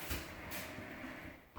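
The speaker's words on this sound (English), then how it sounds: "And this is me testing the door." A door in a newly moved-into house slides and rattles as it is opened and closed, a faint grinding scrape lasting over a second, then a soft knock at the end.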